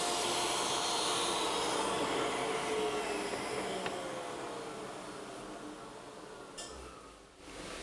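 A router fitted with a quarter-inch round-over bit with a top bearing shapes the underside edge of a wooden table, giving a steady loud high-pitched whine that slowly fades toward the end.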